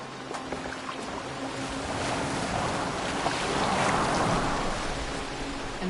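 Boat sailing across open water in Assassin's Creed Valhalla, a steady wash of waves and wind rising slightly in the middle, with no talking.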